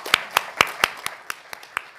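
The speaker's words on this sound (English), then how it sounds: "Please join me in another round of applause for our panelists today." Applause for a panel at a Sunshine Week event: sparse, separate hand claps in an uneven rhythm, a few people clapping close by, thinning out over two seconds with no talk.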